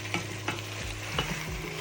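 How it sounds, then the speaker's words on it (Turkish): Potatoes and carrots sautéing with onion and tomato paste in a hot pan, sizzling with a few soft scraping stirs, steady and close, no voices. "Kavurma işlemine geçelim"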